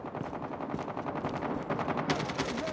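Rapid automatic gunfire from a multiplayer shooter video game, dense overlapping bursts that run continuously and loudly throughout, with sharper shots cutting in toward the end.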